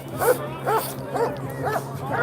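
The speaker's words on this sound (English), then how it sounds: "What do they got dogs out here for?" Police dogs bark outside a detention center, about five sharp barks spaced evenly about half a second apart, fairly close, over a low rumbling background.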